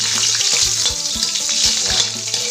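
Chilies frying in hot oil in a pan, a loud, dense, continuous sizzle with occasional stirring knocks underneath, close up and with no talk.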